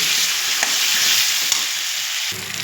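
Tomatoes fried in a pan with turmeric and salt sizzle steadily and close up, with a faint stirring scrape now and then.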